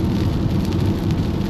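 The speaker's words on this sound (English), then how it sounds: "It's raining," Steady rain falls around a car driving down an interstate, a dense, even hiss that stays constant and moderately loud throughout the short stretch.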